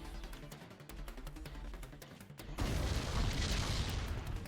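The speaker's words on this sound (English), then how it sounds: "Oh, you just took a rocket right to the face." A rocket from the Metal Dogs video game hits a player and explodes in a sudden loud boom, followed by a dense rumbling wash of noise over the continuing game sound.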